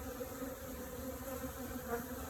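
A steady, close hum of many honeybees buzzing continuously in hive boxes full of bees, with no voices.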